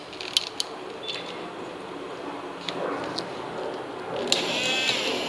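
A Cretile motor-driven model elevator hums and creaks steadily as it travels upward, with a few sharp mechanical clicks and a low whirring drone close by.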